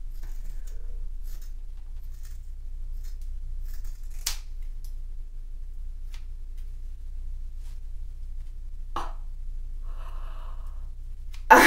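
Scissors point cutting hair on a self-done blended haircut, a few sharp isolated snips spaced seconds apart over a quiet low hum, with a slightly louder snip at the end.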